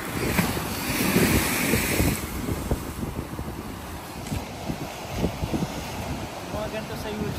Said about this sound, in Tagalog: Ang laki ng dagat oh.